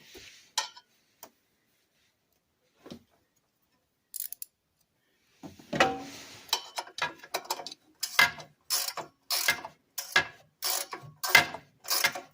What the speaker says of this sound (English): But now I need an actual pry bar to tighten this up.